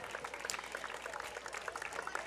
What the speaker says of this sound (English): Everyone clapping.